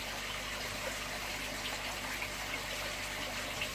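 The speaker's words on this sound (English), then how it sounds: "let that RO water just trickle away there now" Reverse-osmosis water from an RO unit driven by a cordless drill trickles slowly out, a steady close, hissing, gushing wash of running water with no pauses.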